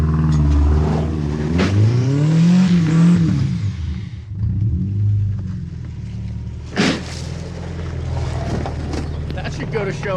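A Subaru's engine revs loud and close as the car drives up a deep, muddy hill, the pitch rising and falling with wind rushing over the microphone and a brief thump partway through.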